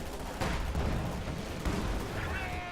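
Field gun firing in a WWII strategy video game, a couple of sharp booming shots with rumbling battle noise continuing around them.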